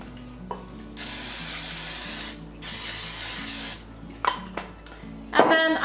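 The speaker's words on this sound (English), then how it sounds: "I'm gonna spray it with a little bit of this cooking spray." Cooking spray hissing into a 13-by-9-inch baking pan in a home kitchen, two steady close bursts of a second or so each, followed by light clinks of the pan.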